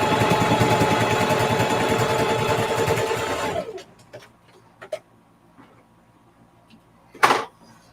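A sewing machine stitches a quilted zipper pouch, a loud, fast, steady whir for about three and a half seconds. It then stops, followed by quiet clicks and handling knocks, and one louder clunk near the end.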